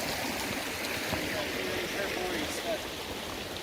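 A mountain stream flows over rocks beside a rocky backpacking trail, a steady broadband rush of water holding at an even, close level throughout.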